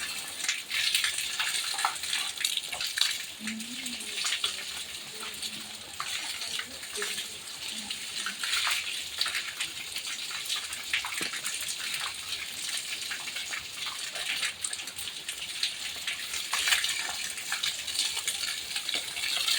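Water pouring during a bath at home, a steady rushing splash that runs continuously and close, with a faint voice briefly underneath early on.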